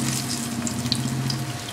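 A stuffed pomfret coated in rava hisses as it fries in hot oil, a steady close sizzle with faint crackles over a low hum, no voices.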